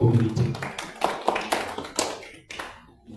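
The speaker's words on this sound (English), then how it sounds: "I think we can clap for that because that's in our community" Audience at a business forum in Kakamega clapping together, a dense burst of hand claps with a few sharper slaps standing out, fading toward the end.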